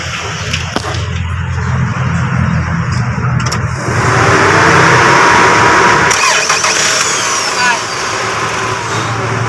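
A car engine that starts hard once hot is cranked and catches. It settles into a loud, steady idle with a brief shift partway through, and a voice is heard faintly under it.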